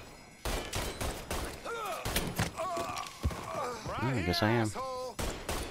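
Gunfire in Mafia 3, sharp broadband shots and thuds scattered through the clip, mixed with in-game voices and someone talking over the action.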